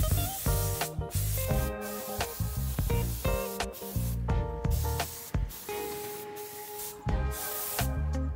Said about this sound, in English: use a spray to eliminate the gloss on the surface